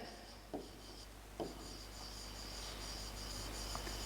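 Scratchy strokes of writing on a classroom board, faint and intermittent, with a couple of sharper taps, over a steady hiss and a high insect-like background drone.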